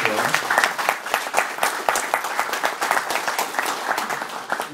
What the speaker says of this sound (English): I would like to applaud for them